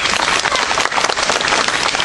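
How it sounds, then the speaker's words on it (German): An audience at Zoo Magdeburg gives a short, steady burst of dense clapping, close and loud for about two seconds with no talk. "Und für die beiden Bäume bitte mal einen Applaus."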